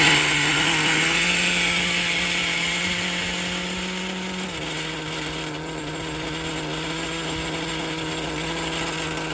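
A Traxxas Nitro Slash 3.3 nitro engine runs fast at a high, steady whine, loud and close, with the pitch dropping slightly partway through before holding steady, and no voices heard.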